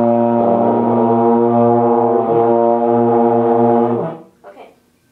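A euphonium note buzzed with the lips, blown like a raspberry, makes a loud, steady, low brassy drone that holds for about four seconds before breaking off, with a brief trailing sputter.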